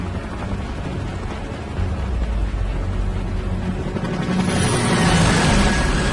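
A helicopter in the Gears of War video game drones steadily as a low, broadband rotor roar, loud and continuous, swelling slightly toward the end.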